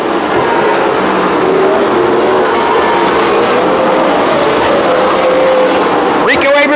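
Sprint cars race past at Calistoga Speedway, a loud continuous engine roar with rising and falling tones as cars sweep by, with a commentator's voice over the din.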